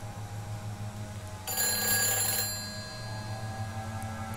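In Silent Hill 4: The Room, an old telephone gives a single bright ring lasting about a second, which stands out over a low, steady ambient hum before fading back into the background drone.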